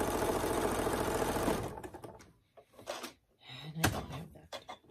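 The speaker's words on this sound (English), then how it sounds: "I've just started stitching, and I'm just going to sew 1/4 inch all the way down." Sewing machine stitching a quarter-inch seam down pinwheel quilt blocks, a loud steady motor whir for the first stretch, then stopping, followed by scattered clicks and fabric handling sounds.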